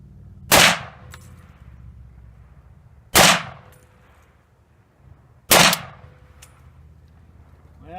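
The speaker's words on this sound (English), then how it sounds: "let's go ahead and shoot the rest of the rounds." An M1941 Johnson rifle fired outdoors, three loud, sharp single shots spaced a couple of seconds apart, each ringing off briefly, with quiet between them.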